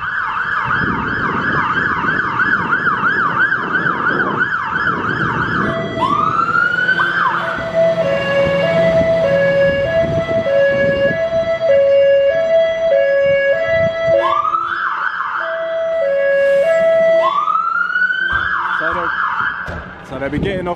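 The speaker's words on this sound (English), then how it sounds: "the fire engine's gonna come through" A fire engine siren sounds loudly and close at a Dagenham fire station drill, wailing up and down in repeated sweeping cycles with tones that change partway through and engine rumble underneath.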